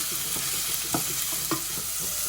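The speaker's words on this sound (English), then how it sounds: "You want to stir them through until they're brown and cooked." Onions and mushrooms frying in a pan for a chicken curry, a steady close sizzle broken by a few soft scraping stirs, with no talking.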